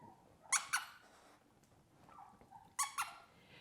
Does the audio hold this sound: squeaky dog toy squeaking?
yes